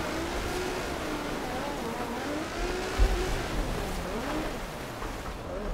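Car drifting in Forza Horizon 4, driven with a Logitech G920 wheel using clutch kicks and no handbrake: a continuous engine drone rising and falling through revs with tyre squeal, one brief thump midway.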